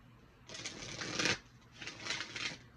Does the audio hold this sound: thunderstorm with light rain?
no